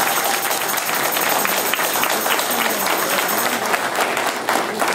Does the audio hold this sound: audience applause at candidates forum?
yes